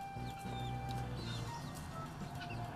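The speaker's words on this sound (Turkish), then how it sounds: "Hemen belli yani horoz." A rooster among farm poultry clucking softly, with several short calls over a low barnyard hum and no speech, heard from close by.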